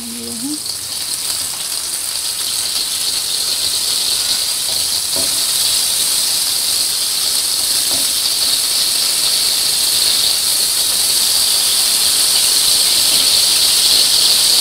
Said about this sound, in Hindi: स्लो फ्लेम पे हम इन्हें फ्राई करेंगे